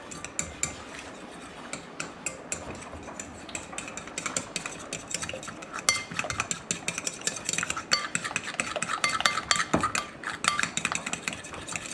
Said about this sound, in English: egg and cheese, and we really need to mix it good with no lumps